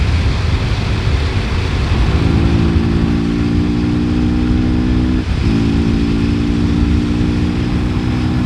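A Suzuki GSX-R 125 motorcycle engine on a ride, a steady droning hum that rises as it accelerates, briefly dips and then holds steady, loud and close with wind noise.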